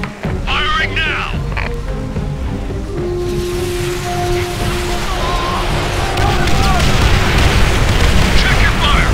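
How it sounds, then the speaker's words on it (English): Offshore rocket strike explosions in the World War II shooter game Call of Duty: World at War, a loud sustained barrage of booming blasts and rumble with shouted voices and gunfire in the mix. "Offshore rocket strike at the ready!"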